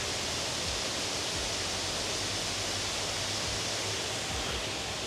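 A waterfall seen from an observation deck along a trail, a loud continuous broadband rush of falling water with no breaks.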